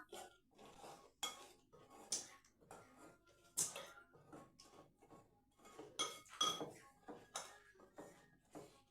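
Sweet potato fritter batter mixed in a bowl, with repeated clinks and scrapes of a utensil against the dish in an irregular rhythm, fairly quiet and close, with no talk.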